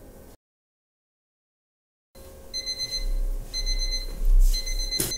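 After a brief sound and a stretch of silence, a mechanical alarm clock set as a five-minute timer starts ringing in repeated bursts of shrill, close bell clatter.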